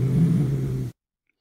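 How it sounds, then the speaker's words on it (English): A domestic cat's closed-mouth growl, harsh and creaky: a low, buzzing rumble held steadily for just under a second before cutting off into silence. "The closed mouth growl is this which is harsh and creaky."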